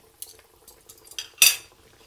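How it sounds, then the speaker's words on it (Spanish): A gluten-free breaded chicken breast fillet, villaroy style, is set into a frying pan amid soft clinks of a utensil on the pan, ending in one louder scrape and clatter, with no talking. "Con mucho cuidado, lo ponemos en la sartén."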